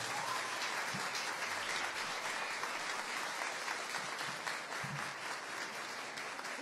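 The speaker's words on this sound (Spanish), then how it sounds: "Vamos a regalarles un fuerte aplauso," Audience applause for the candidates at a Reina de Azogues 2019 beauty pageant presentation, a sustained, even clatter of many people clapping at a moderate distance, continuing steadily throughout with no speech.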